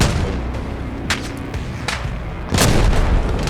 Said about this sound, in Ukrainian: У мене є одна граната, я зараз спробую її туди кинути